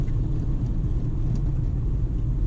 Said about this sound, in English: apologies for any background noise, but we're driving now from Whanare to Auckland